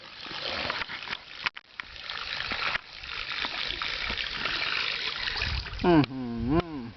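Fishing lure fitted with a soda-can propeller churning and splashing through water, a continuous fizzy wash with choppy bursts, while someone speaks over it toward the end.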